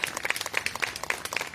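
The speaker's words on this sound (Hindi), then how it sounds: "तालियां जोर से बजे दत्ता के लिए" A small crowd claps for a core member of a yoga class team: a quick run of light, uneven hand claps, close and moderately loud, with no one speaking over it.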